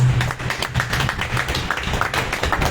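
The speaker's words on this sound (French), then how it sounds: "Madame de Koussade, je vous prie de l'applaudir." An audience applauds Madame de Koussade at a Makossa music event, with close, loud hand claps in a quick, uneven patter that carries through the whole moment.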